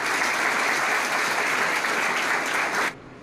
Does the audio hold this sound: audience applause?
yes